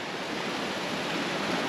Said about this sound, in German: Kommt von ganz da oben das Wasser